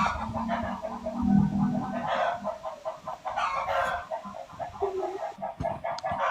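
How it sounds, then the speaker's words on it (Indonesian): Several chickens cluck in irregular bursts while a rooster crows, fairly close and loud, the calls overlapping in an uneven barnyard chorus. "Ada ayam."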